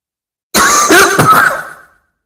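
A single harsh cough burst from one person, close and loud, trailing off after about a second of silence.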